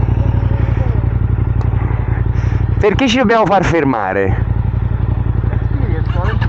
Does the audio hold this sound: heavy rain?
no